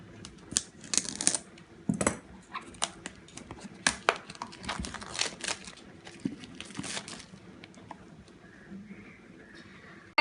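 Cardboard and plastic packaging of a Moto E4 Plus phone box crinkles, taps and clicks up close as it is opened, in irregular soft bursts with quieter handling toward the end.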